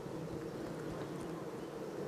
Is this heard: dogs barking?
no